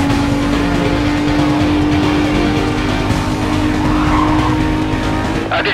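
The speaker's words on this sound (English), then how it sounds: "Vehicle just spun a 180." A car in a police-chase video game spins a 180 with loud, continuous tire squeal over a roaring engine, close and sustained from start to finish.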